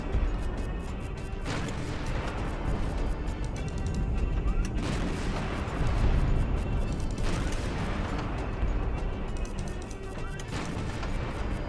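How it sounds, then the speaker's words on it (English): A 37mm gun fires in the Highfleet video game: heavy, rumbling shots and crashing booms repeat over a dense, steady wash of battle noise, loud throughout. "Trying to use the 37mm to guide my shots."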